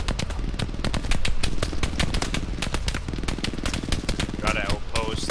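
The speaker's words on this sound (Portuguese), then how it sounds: "Nem sei de onde tá vindo o tiro." Dense rapid gunfire from the video game Hell Let Loose, with machine-gun bursts and single shots crackling nearly nonstop, some close and loud, others more distant, while people talk over the battle.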